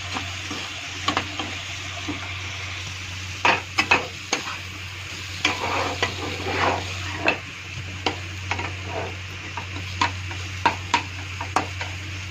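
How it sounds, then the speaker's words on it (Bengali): A paste of cumin, ginger and green chili fries steadily in a pan, with a soft continuous sizzle broken by frequent sharp clicks and scrapes of stirring, close by and with no talking. "এখন ভালো করে ভাজা ভাজা করব।"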